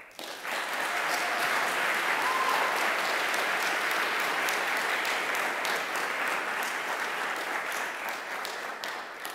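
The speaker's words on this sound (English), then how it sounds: "let's give an applause for John Wright" A graduation audience breaks into warm applause for a Project SEARCH graduate, the dense clapping of many hands rising quickly and sustaining evenly for several seconds.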